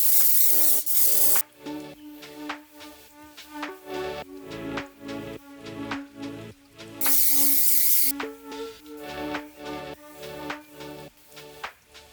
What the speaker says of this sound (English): Spraying the hairspray on the comb helps to minimize any flyaways